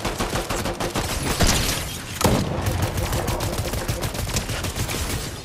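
Rapid gunfire from a Fortnite match, loud and dense, with repeated cracking shots and a couple of sharper bursts layered over a continuous game soundscape.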